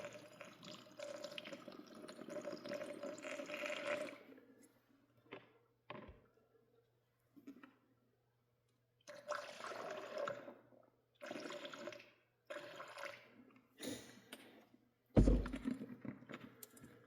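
A car battery is flushed with distilled water and Pepsi Max, making intermittent gurgling pours and sloshing liquid in several separate bursts with quiet gaps, plus a sharp knock near the end.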